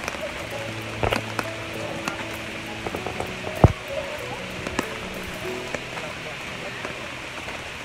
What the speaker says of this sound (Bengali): কি বৃষ্টিটা আল্লাহ!